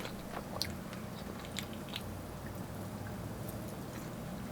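Close chewing of lomo saltado, tender steak with crunchy peppers in a salty soy juice, giving soft repeated bites and faint crunches over a steady low background hum.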